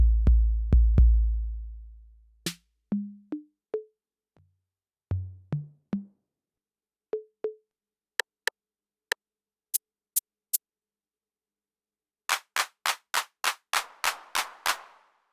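Behringer RD-8 drum machine sounds triggered one by one, isolated thumps, tonal hits and sharp clap strikes with short tails, ending in a quick run of claps whose reverb builds in gradually.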